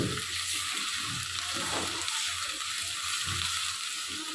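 Chopped onion and green chili fry in a pan with a steady, bright sizzle close up, soft scraping from a light stir running underneath.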